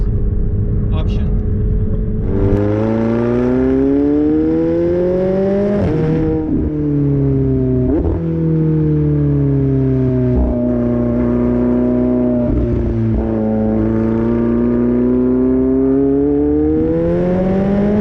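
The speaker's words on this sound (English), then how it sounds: "So I have a sport exhaust system. It's stock. It comes from McLaren, but it's a sports option." A 2019 McLaren 720S with the factory sport exhaust option drives by loudly, its engine note rising and falling through several revs with steady harmonic drone and brief dips between gear changes, close and dominant throughout.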